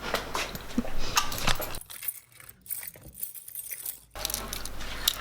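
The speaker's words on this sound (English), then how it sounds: "These are a lot of keys." A large collection of lost keys jangles and rattles in short metallic bursts. A quiet pause falls in the middle before the clinking resumes.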